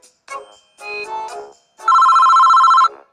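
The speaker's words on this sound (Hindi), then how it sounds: "अरे यह किसका फोन बज रहा है?" A mobile phone ringtone plays in a few short melodic bursts, then one long, loud tonal ring, close and alone.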